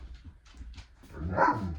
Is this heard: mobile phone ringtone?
no